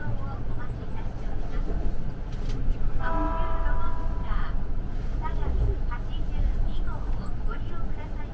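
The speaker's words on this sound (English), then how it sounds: "the limited express train VSE is also traveling at a slower speed" Odakyu Romancecar VSE limited express train rolling at reduced speed on single track near Minami Shinjuku, heard from the front with a steady low rumble, a brief horn-like tone midway and a voice talking over it.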